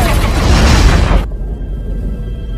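A loud explosion from an Iron Man film, the blast roaring densely for about a second and a quarter before cutting abruptly to a quieter rumbling tail.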